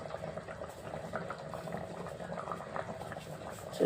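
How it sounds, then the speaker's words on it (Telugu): Fish tamarind stew bubbles in a clay pot, still boiling after the gas flame is switched off, a soft continuous simmer of popping bubbles heard close up. "చూడు గ్యాస్ ఆపినా కానీ ఉడుకుతానే ఉన్నది"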